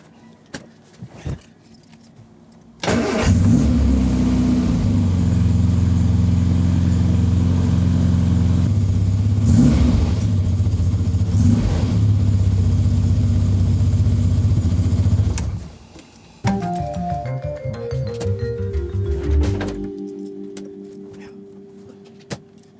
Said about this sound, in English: She hasn't been started in a good couple of months, so it's been a while. Fingers crossed she starts.